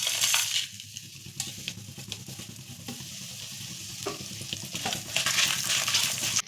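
Whole spices, cinnamon, cardamom, cloves and chillies, roast in hot oil for a Chettinad egg gravy, crackling and sizzling close up while a utensil stirs and scrapes, the frying swelling louder at the start and end.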